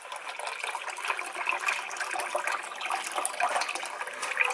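Water pouring steadily into a crockpot to cover glass jars of dulce de leche (cajeta), a continuous close splashing gush that stays fairly even in level throughout.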